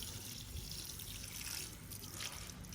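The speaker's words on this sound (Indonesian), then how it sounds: "Jadi langsung disiram agar media semai menyatu dengan media" Water poured over chili seedling planting medium during transplanting, a steady soft trickle and splash that continues throughout, close by with no speech.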